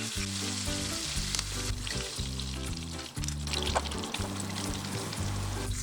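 Steady, loud sizzling of chicken feet deep-frying in hot oil, a continuous crackling hiss with a low hum underneath, no voices.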